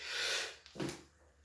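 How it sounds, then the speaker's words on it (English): A single sneeze bursts out close by, a sharp breathy blast with a short gasp before it, in a quiet room where someone is doing oil-pastel artwork. "I just had a sneeze there"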